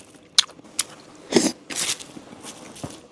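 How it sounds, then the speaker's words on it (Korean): Chewy Korean rice-cake tteokbokki from a snack shop being eaten close up, with a few soft, moist bites and chews spaced irregularly across a quiet background. "분식집에서 사서 먹는 떡볶이 오랜만인데 음 맛있다 쌀떡이라 완전 쫀득해"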